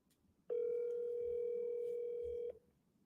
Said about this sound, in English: I'm phoning a friend.